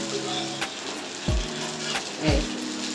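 Jowar flour flatbread (jonna attu) roasting on a hot pan gives a soft, steady sizzle, partly masked by louder tonal sounds with two downward sweeps.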